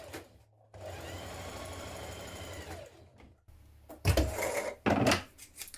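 A sewing machine stitches front and back dress hem facings together, running in a steady whir for about two seconds, then stopping, followed by a few short bursts and louder clunks of handling.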